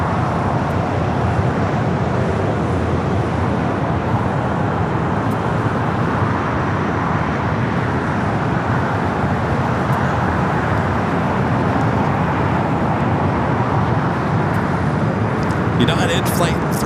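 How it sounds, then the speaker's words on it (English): A United Boeing 787-9 Dreamliner bound for Tokyo Narita rolls down runway 25 Right at LAX, a steady broadband roar of jet engines and rushing air holding level throughout, with no talk over it. "it's a 787-9 Dreamliner heading to Tokyo Narita, now rolling down."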